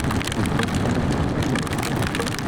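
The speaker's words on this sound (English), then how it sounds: "Now that's a bit more like rain." Steady rain patters hard and densely on a BMW NT110 motorcycle and rider on a Scottish highland road, a continuous close hiss of drops with no talk.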